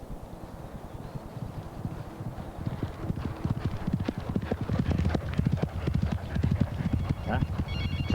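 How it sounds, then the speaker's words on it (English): A young racehorse gallops up a training gallop, its hooves drumming in a fast, rhythmic beat that grows louder as it nears. A roaring breath with a whistle from a paralysed airway may sound in each stride, and voices talk over it. "it made a bit of a roar, which is quite a bad whistle going up there"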